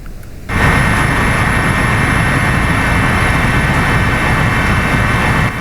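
A helicopter flies over a flood-damaged area in Nagan Raya, Aceh, with broken bridges below. A steady, loud engine and rotor drone starts abruptly and holds unbroken from inside the cabin.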